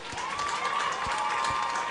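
Crowd noise at a freshman/sophomore soccer championship match against Curley, a steady roar of cheering and shouting from the stands with scattered claps, moderately loud and continuous throughout.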